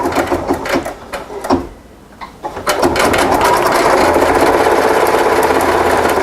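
An embroidery machine sews a fast triple stitch on a small posies design, with a loud, steady, rapid mechanical whir taking over after some brief clattering at the start.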